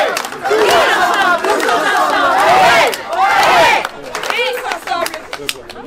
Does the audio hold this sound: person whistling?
no